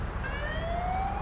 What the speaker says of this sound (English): now have Australian sirens installed, so all of our vehicles will be sounding more and more like the actual Australian siren